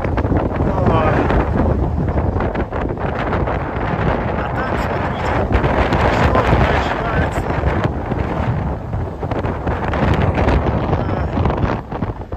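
Strong mountain wind roars and buffets the microphone continuously, loud and gusty, with a voice faintly audible under the rumble.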